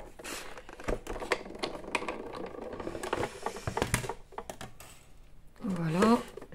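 A die-cutting machine is cranked to cut a lace pattern, giving irregular clicks, knocks and ratcheting at close range, with a person's voice rising briefly near the end.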